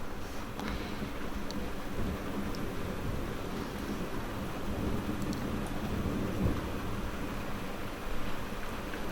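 Thunder rolling during a June thunderstorm in North West England, a low, drawn-out distant rumble that sits under a constant wash of rain and wind, with no voices.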